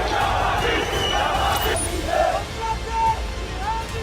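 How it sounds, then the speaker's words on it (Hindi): Crowd of protesters in the West Bank chanting slogans against Israel in the street before dawn, a dense, steady roar of many voices with raised shouts rising and falling throughout. "वेस्ट बैंक में ही सुबह होने से पहले लोगों ने सड़कों पर निकलकर इजराइल के खिलाफ जमकर नारेबाजी की।"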